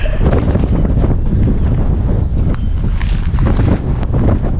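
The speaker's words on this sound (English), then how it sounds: "It's so windy." Strong wind buffets the microphone at a cold winter kayak camping spot, roaring continuously and loud throughout with no voices.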